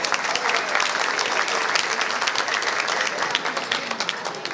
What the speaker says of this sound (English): So please a round of applause for his wonderful wife.